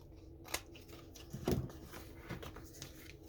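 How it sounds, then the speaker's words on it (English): Scissors snip along the edges of a paper tag, a few crisp, close cuts spaced irregularly over quiet room sound. "now let's trim this so we can see the edge well"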